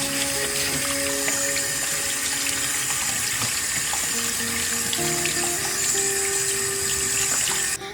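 Tilapia fish steak frying in a pan of hot oil outdoors, a dense, steady sizzle and crackle running loud and unbroken throughout.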